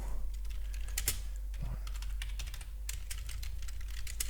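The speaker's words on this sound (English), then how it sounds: "Yes, you do hear typing." Fast irregular clatter of computer keyboard keys typed at a desk during a day-trading session, clicks close and fairly crisp over a constant low hum.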